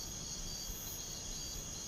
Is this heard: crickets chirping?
yes